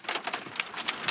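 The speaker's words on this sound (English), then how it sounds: "Oh, yeah, that's big hail." Large hailstones pelt a vehicle during a northwest Kansas storm, a dense, loud patter of sharp hits on the roof and glass, with a few heavier cracks standing out.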